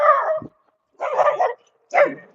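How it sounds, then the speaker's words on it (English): Dog giving three separate barks with short silent pauses between, loud and close, the first trailing into a low whine. "We got this dog."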